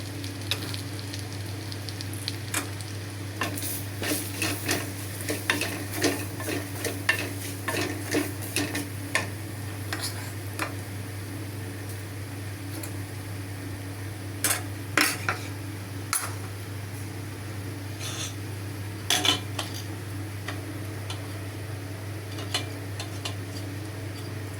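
Semolina toasting in ghee in a pan with cardamom and cinnamon, a low steady sizzle broken by scattered scraping and clinking strokes of a spoon against the metal, with a constant hum beneath and no talk.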